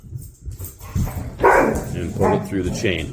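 Dogs bark and whimper nearby in short bursts while a person keeps talking over them.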